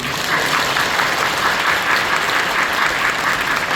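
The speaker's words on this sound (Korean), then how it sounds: "우리 뜨겁게 환영하는 박수." A church congregation claps warmly in welcome for a group of young children, steady dense applause filling the hall from start to finish with no voices over it.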